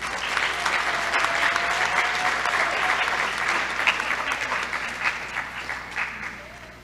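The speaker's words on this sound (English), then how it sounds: "Let's give these students a round of applause." An audience at a high school academic achievement awards ceremony applauds students with sustained, dense clapping that thins into scattered claps toward the end.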